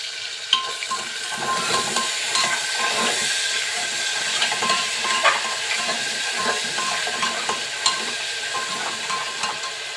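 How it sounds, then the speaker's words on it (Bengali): Garlic and ginger paste with salt sizzles and hisses steadily in hot oil while being stirred in a pan for a shrimp and taro curry, with faint scraping clicks from the stirring, close up. "তেলের মধ্যে মশলাটা নাড়াচাড়া দিয়ে খুব সুন্দরভাবে একটু কষিয়ে নিচ্ছি, যাতে মশলার কোনো কাঁচা ফ্লেভার না থাকে।"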